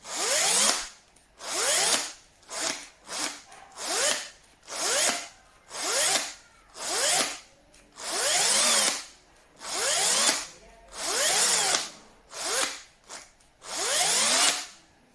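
An Einhell TE-CD 18/40 Li cordless drill whirs in repeated short bursts, spinning up and winding down over and over, each stop ending abruptly with a click, close and clear.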